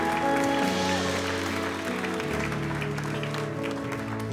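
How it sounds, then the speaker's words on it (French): A church congregation claps together in sustained applause during a service, a steady moderate wash of hands with tonal music or voices humming underneath. "Qu'est-ce qu'on peut l'applaudir bien fort?"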